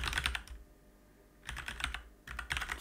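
Three short bursts of close computer keyboard typing, rapid clicking key presses separated by quiet pauses of about a second.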